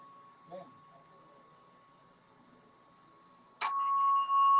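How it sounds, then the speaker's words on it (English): A bell rings during a haunted objects investigation in a gallery, a sharp bright strike near the end of the clip that sustains and rings on, following an otherwise quiet stretch with a faint earlier tap. "the bell rang more than once"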